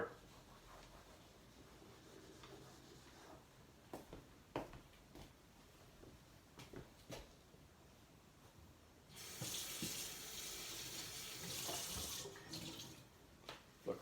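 A tap runs in a sink for a few seconds, a steady hiss of flowing water following quiet handling clicks and knocks.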